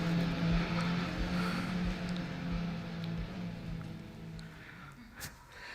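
A car driving past in a video game demo, cruising a cabriolet past traffic lights, with a steady low engine drone and road rumble that holds at moderate level throughout, ending with a faint brief tick.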